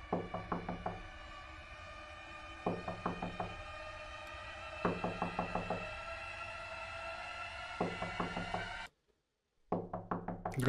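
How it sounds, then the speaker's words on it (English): Loud, close knocking on a wooden door in the horror game Fears to Fathom - Ironbark Lookout, struck in repeated bursts of four to five raps separated by pauses, with a brief silence near the end before another burst. "I'm gonna keep knocking."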